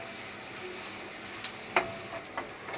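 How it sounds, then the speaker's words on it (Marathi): Finely chopped onions fry in hot oil with a soft, steady sizzle, joined by a few brief clicks and scrapes as they are stirred, close and fairly quiet. "कांदा थोडासा हलका गुलाबी रंग येईपर्यंत आपण तेलामध्ये परतून घेऊया."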